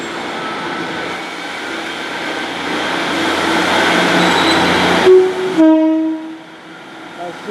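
Great Western Railway diesel multiple units 153-382 and 150-120 pull out on the 0927 service to Barnstaple, a steady engine rumble building beneath faint voices before a sharp two-tone horn sounds near the end.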